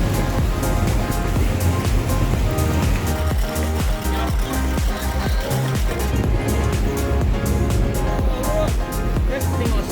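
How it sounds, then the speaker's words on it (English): Ocean waves slapping against a rock wall near a motorboat off Tanna, rebounding waves colliding from two directions in a continuous loud wash of surf, heard under an engine-like hum. "So it's got waves going two ways."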